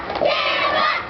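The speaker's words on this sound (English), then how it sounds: "And listen to the crowd. They are behind Kimba," A wrestling crowd at a WBW match between Kimba and Prodigy cheers and shouts in a loud, sustained roar of many voices, dense and continuous throughout.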